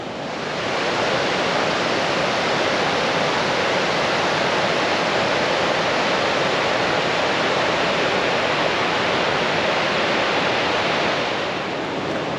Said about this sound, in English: So, that was the waterfall on the River Doubs.